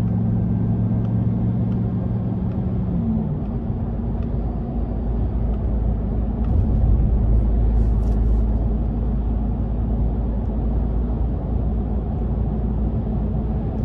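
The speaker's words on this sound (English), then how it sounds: "These tires are pretty loud, which is to be expected" Steady, loud tire roar and low road rumble fill the cabin of a 2024 RAM TRX on the move, a continuous drone that holds for the whole stretch with a faint engine hum underneath early on and no talking.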